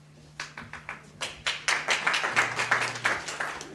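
Audience members at a blogger conference clap in a short burst of distinct, fairly close hand claps that quickly thicken into scattered applause, with a low steady hum underneath.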